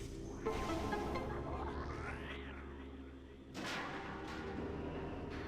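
Morph ball bomb blasts in Metroid Prime: a loud booming burst with a rising whoosh, then a second sharp detonation a few seconds later over a steady low game hum, no voices.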